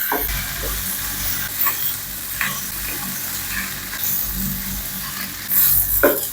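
Chicken bopis made with gizzard and heart is stirred in a pan with tomato paste, pepper and paprika, giving steady close sizzling with repeated scraping strokes of the spoon against the pan.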